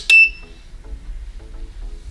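A sublimation heat press making a phone case gives one sharp, bright electronic beep at the start, followed by faint low rumbling and quiet background noise.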